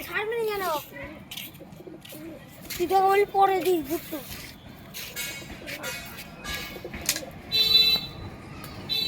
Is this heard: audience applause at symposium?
no